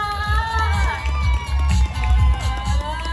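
Audience at a TikTok Shop fashion creator event in a shopping mall clapping and cheering as a guest takes the stage, a busy crowd roar with whoops over thumping background music.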